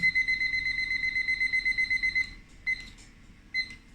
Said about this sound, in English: So let me set the timer.